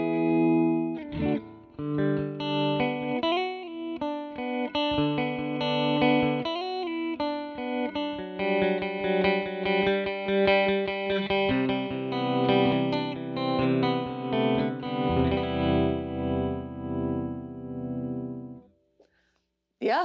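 Sustained keyboard chords run through a MoogerFooger Slow Leslie rotary-speaker plugin, swirling with a slow wobble, loud and continuous for about eighteen seconds before cutting off, with a brief sound at the very end.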